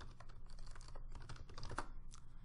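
A terminal command is typed on a computer keyboard, making a soft, continuous patter of key presses against a faint room background.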